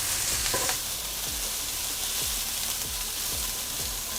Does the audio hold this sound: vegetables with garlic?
yes